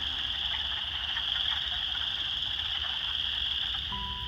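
Chorus frogs and spring peepers call outdoors in a wetland along a park trail in March, a dense, continuous high-pitched trilling chorus over a low background rumble.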